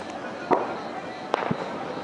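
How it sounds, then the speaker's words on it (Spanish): A few scattered New Year's firework bangs from large firecrackers, two or three sharp distant pops over a low background hum, not especially loud. "Se escuchan las muy fuertes explosiones todavía. Es de los llamados cuetones"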